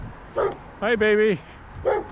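A small dog outdoors along a walking route gives a few short barks and a longer whining yelp, close by, with a person greeting it briefly in between.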